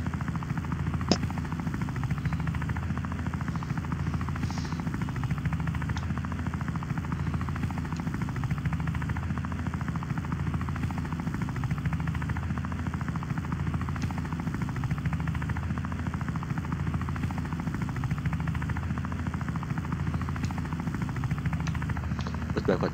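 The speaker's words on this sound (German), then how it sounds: "Mit dem Hubschrauber fliegen wir auf die andere Insel." Helicopter flying in the video game Wobbly Life, a steady continuous rotor drone with low thudding throughout, holding even and fairly loud for the whole stretch.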